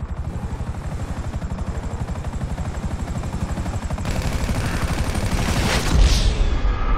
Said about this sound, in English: Shit! Chopper!